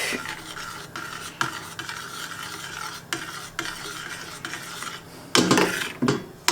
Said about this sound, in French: On mélange et on fait épaissir un petit peu l'ensemble sur le feu.